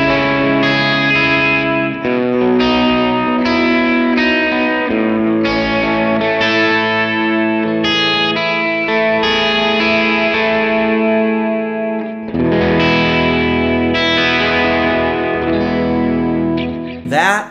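Electric guitar played through a Line 6 Helix LT set up as a praise-and-worship rig with tremolo, ringing sustained chords with a steady pulsing shimmer, loud and close, with a brief pause and restrike partway through.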